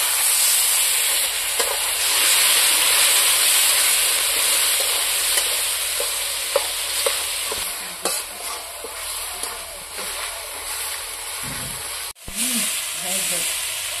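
Onions with coriander paste, salt, turmeric and a bay leaf fry in a pan with a steady, close sizzle, with occasional clinks and scrapes of stirring throughout.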